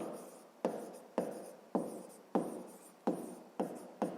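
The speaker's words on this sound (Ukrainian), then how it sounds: "Пишемо перший випадок." Pen writing on paper while solving a math exercise, rhythmic repeated strokes about every half second, each a sharp scratchy onset fading out, close and quiet with no talk.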